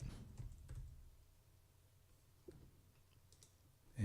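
Soft, faint keystrokes and clicks on a computer keyboard, typing a search into a code editor's extensions panel, sparse and close with quiet pauses between taps.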